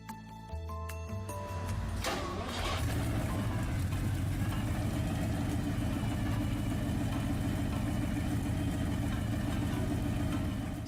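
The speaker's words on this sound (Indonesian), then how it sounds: "Cizeta Moroder V160 yang sekarang dikenal sebagai Cizeta V160 adalah mobil sport asal Italia" Cizeta Moroder V160 Italian sports car engine idling steadily, a low, even rumble that settles in after a brief start and holds constant and fairly quiet.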